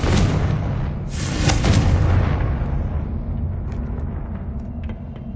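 Confringo fire spell blast in Hogwarts Legacy, a loud booming explosion with a second burst about a second later, then a long rumbling decay that fades with faint debris clinks.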